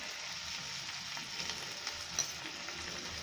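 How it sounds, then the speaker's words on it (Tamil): Chilli chicken masala sautés in oil with added cumin powder and spices, a soft continuous sizzle with faint occasional stirring taps, fairly quiet and close. "நல்லா வதக்கிக்கோங்க."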